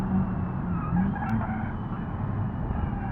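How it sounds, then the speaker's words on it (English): A race car's engine drones with a squealing tire skid as the rear end kicks out on a downshift, steady and loud throughout, in a Nürburgring racing video game. "The downshift really seems to kick out the rear end as well."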